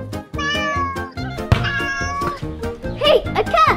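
A cat meows several times in quick succession, with rising and falling calls mixed in among children's voices and other busy background sound.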